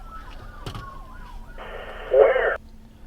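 A police car siren wails in the background, then a louder, harsher tone blares briefly before cutting off, with a sharp thump early on.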